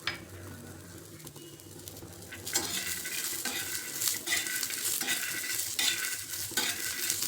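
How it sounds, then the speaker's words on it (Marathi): Green chillies roasting with peanuts and garlic in a pan, a utensil stirring and scraping against metal over a soft sizzle, getting louder and busier midway, close with no talking. "छान भाजून घ्यायच्या मिरच्या"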